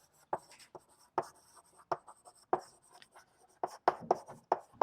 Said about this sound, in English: Let me write over here.